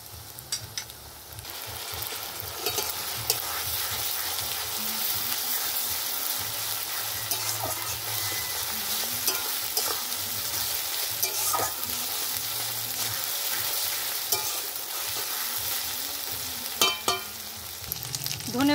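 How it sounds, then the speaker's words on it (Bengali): Onion sizzling and frying in a pan, stirred now and then with scrapes and clinks, a steady close hiss running throughout with no talk, cooking for a village-style country chicken curry. "পেঁয়াজটা আমি একটু লাল লাল করে ভেজে নেব"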